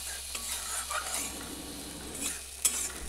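A paste of ground mustard, poppy seed, ginger, garlic, onion and chili sautés in a pan, giving a soft, steady sizzle with scraping stirs and a few light utensil clicks.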